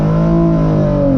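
A tuned Hyundai Genesis Coupe 3.8 with full bolt-ons launches hard in first gear, its V6 droning loud and close with a steady, smooth climb in pitch that sags slightly near the end.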